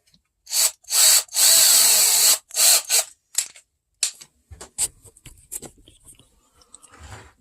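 A power drill whirs in several loud bursts, short and then long, followed by scattered clunks and handling knocks while someone works on a winch lifting device made from scrap parts.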